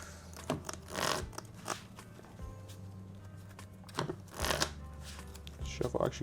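Pokemon TCG cards being shuffled during a tabletop gym leader match, several quick riffling bursts in succession with a person talking over them.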